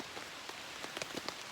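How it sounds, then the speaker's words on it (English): Rain patters steadily on a tarp at a trail campsite on the Appalachian Trail, a soft continuous hiss broken by scattered louder drops close overhead, with no voices. "it started raining."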